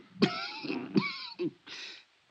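A man clears his throat and gives a few rough coughs, close and fairly loud, in three short bursts with a softer rasp at the end.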